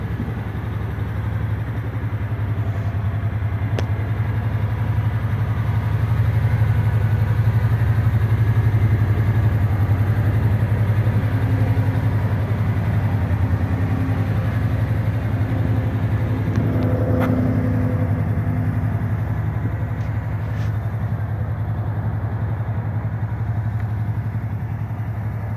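A Kawasaki Teryx side-by-side idles steadily nearby at a dealership, a low, even engine hum that holds for the whole stretch with slight rises in intensity and no talk.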